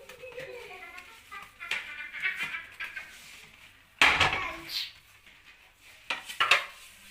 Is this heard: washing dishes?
yes